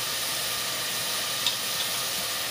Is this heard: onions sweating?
yes